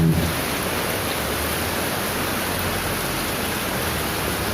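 Rain pours continuously, a uniform wash of hissing drops after a brief louder onset, heard alone at moderate volume.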